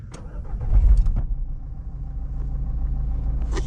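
Petrol 1.4 engine of a Renault Clio 4 or Fiat Egea cranking and catching with a loud low rumble, then settling into a steady close idle.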